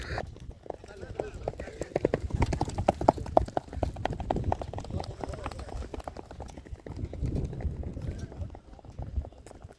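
Rapid hoofbeats of several racehorses clattering along at a horse race, a busy rhythmic clip-clop with voices talking over it throughout.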